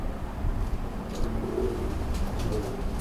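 Pure Indian or Ferozpuri pigeons coo softly at close range, a few low throaty rolling calls over faint background noise.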